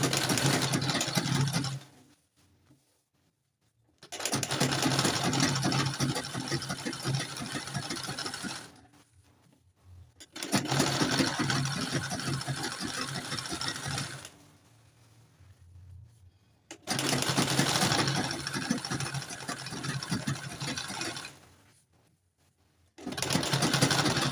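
Sewing machine stitching a narrow boning channel on a corset, running in three long steady bursts of buzzing stitches separated by short pauses, close and fairly loud with no talking.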